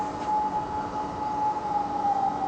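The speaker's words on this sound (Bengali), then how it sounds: "আপনারা শুনতে পাচ্ছেন সাইরেন বাজতেছে এখনো" A civil defense air raid siren wails steadily in Kuwait, a sustained unbroken tone over low background rumble, fairly loud and with no talking.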